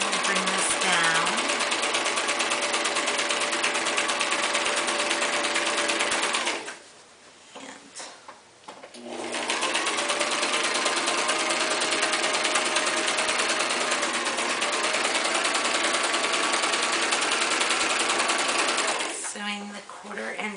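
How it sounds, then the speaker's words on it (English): Sewing machine stitching a 1/4 inch seam along the edge of a self-binding receiving blanket, running steadily and close, with a brief pause partway through before the whirring resumes; a voice talks over it. "Sewing the 1/4 inch seam allowance now."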